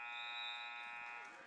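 A steady electronic buzzer drones at a high school wrestling team dual meet in a gym, holding one continuous tone for the whole moment before easing off slightly at the end.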